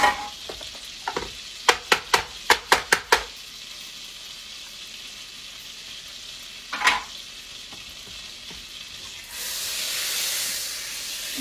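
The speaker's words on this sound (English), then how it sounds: "Turned it up a little bit to get my butter going" Butter melting in a pan on the stove gives a soft, steady sizzle, broken by a quick run of sharp clicks and knocks early on, a single clatter midway, and a louder hiss rising near the end.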